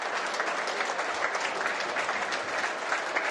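Crowd of home and visiting fans at a Whitehaven v St Helens rugby league Challenge Cup match gives steady, sustained applause, dense and even throughout while an injured player is stretchered off.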